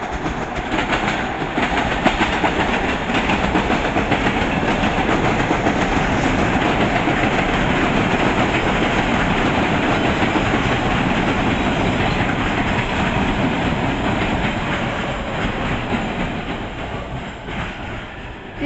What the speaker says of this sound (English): The train was heading towards JFK UMass.